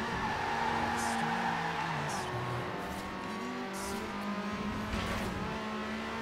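An Alfa Romeo 8C Competizione drives in Forza Horizon 4, its engine droning steadily with rising and falling revs and gear changes, heard alone at moderate volume.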